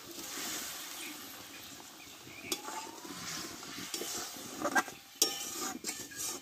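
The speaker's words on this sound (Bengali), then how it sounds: "দেখো ঝোলটা ফুটে গেছে, এবার মূলোর কোপ্তাগুলো আমি দিয়ে দেবো।" Radish koftas drop into a boiling gravy, with close, uneven splashes and stirring clatter over a soft bubbling simmer, and a few sharper knocks toward the end.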